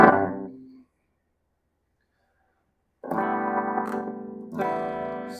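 Ibanez MIJ RG470 electric guitar with distortion rings out a chord that fades to silence, then two loud sustained distorted chords strike after a pause.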